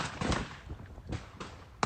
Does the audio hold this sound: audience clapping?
no